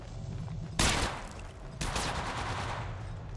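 Gunfire in the mobile battle royale game Apex Legends Mobile: two loud, sharp bursts of shots about a second apart, each trailing off, over a steady low game hum with no talking.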